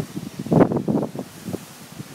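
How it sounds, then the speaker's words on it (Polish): Strong, gusty wind around a volcanic landscape, buffeting the microphone in rough, uneven bursts that swell loudest in the middle, then ease into lighter rustling gusts. "Znów ten wiatr potężny."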